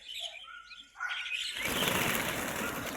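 Sparrows and pigeons flutter in to eat scattered rice, with soft chirps at first, then a sudden loud rush of flapping wings that fills the rest of the moment, close by.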